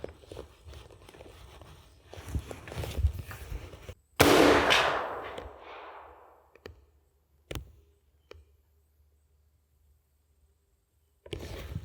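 A single loud, sharp rifle shot from a restored Remington Rolling Block, ringing out and decaying over about two seconds, followed by a few faint clicks and handling noises in an otherwise quiet outdoor setting.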